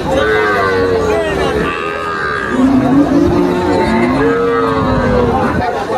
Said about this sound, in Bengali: এগুলো সব শাহিয়াল বাছুর, শাহিয়াল।